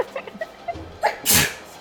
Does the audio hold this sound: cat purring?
no